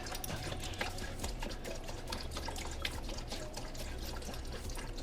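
Coolant pours and gurgles out of a pulled radiator hose on a Porsche Boxster 986, a steady close liquid stream with small dripping splashes running continuously without talk.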